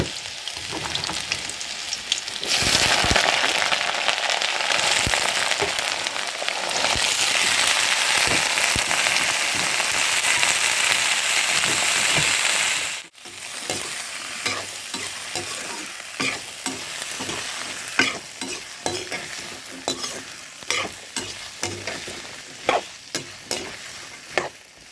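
Sliced garlic cloves fry in hot oil for a vegetable dish, a loud, steady sizzle that cuts off abruptly midway and gives way to quieter crackling with scattered clicks of stirring, no one speaking.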